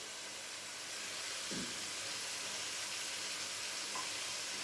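Mixed vegetables of potato, peas and carrot sizzle steadily in a hot pan, a constant close hiss and crackle with a brief stirring clink, and no one talks.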